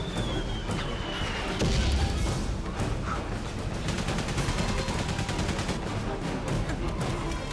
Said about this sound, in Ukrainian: Я напевно, не повинен попадати під постріли.